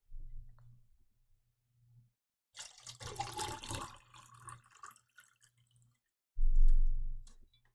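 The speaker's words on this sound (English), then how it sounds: "I gotta pour more water" Water poured into a container in a cozy whispered ASMR setting, arriving in a couple of close, quiet splashing bursts separated by soft pauses and a low background hum.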